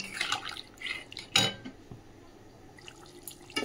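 Hot water pours and splashes into a pot of potato and cauliflower curry, with a few clinks of a utensil on the pot, fairly faint and close, with no talk.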